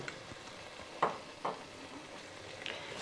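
Regular paprika and red pepper flakes frying in a pot for chowder, a soft steady sizzle with a couple of sharp stirring scrapes, no talking.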